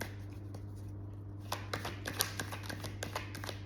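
Tarot cards are handled during a reading, first with a soft riffle and then a run of crisp, separate snaps and slides as cards are drawn, close by against a steady background hum.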